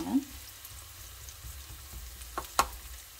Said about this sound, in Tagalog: Susunod naman po nating ilalagay ay yung kamatis po. Tapos gigisa po lang natin.